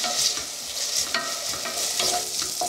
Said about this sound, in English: So the next thing we're going to do is fry our bacon up.